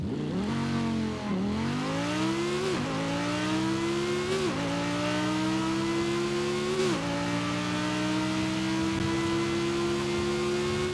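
A 2013 Audi R8 widebody, a 1200-horsepower drift build in Forza Horizon 5, revs hard and climbs through several upshifts, each one a brief dip before the engine tone rises again. The engine stays loud and close throughout, with no talking.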